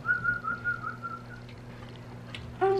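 A steady, sustained whistle tone runs for over a second, then a sharper, louder whistle blast cuts in at the end over faint background noise.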